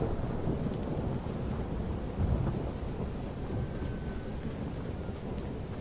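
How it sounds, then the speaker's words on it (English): Thunder rumbles low and continuous through a steady downpour of rain, a dense, loud wash of rainfall with deep rolling thunder underneath and no voices. "Am I being completely obliterated by the thunder?"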